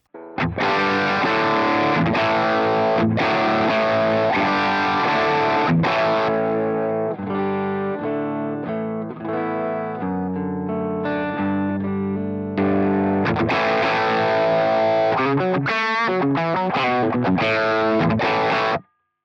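Distorted electric guitar played through an amp, chords and single-note lines ringing with heavy overdrive for about twenty seconds, no talking.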